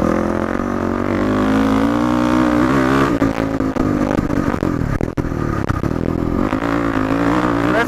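A Yamaha WR450F dirt bike with modifications and rejetting roars loudly at close range, its engine held at high revs and accelerating steadily, with some clattering and a brief dip partway through.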